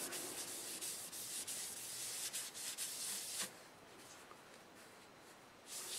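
Shellac-based sanding sealer is rubbed onto a turned plum crotch wooden bowl with a soft, continuous hissing scrub, faint and close, with a few brief sharper rubs.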